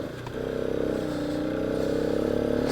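A motorcycle labouring up steep hairpin bends in the Dhimbam hills, held in second gear: a loud, steady engine drone with a rhythmic throb, heard close and continuous after a brief quieter start.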